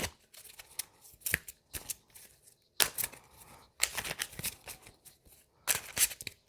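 Oracle cards shuffled by hand, a series of crisp riffling and snapping bursts separated by short pauses, close and fairly quiet with no talking.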